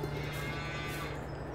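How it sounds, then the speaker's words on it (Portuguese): A cow moos in the video game Farming Simulator 22, a faint low sustained lowing with a steady hum beneath it and no voices. "Ó, essa vaca ali bem boa, deitadona"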